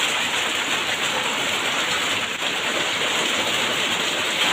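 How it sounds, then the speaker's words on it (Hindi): Heavy rain pours down in a dense, steady roar, loud and continuous, with no voices audible over it. "वर्षा होती बहुत जोर से"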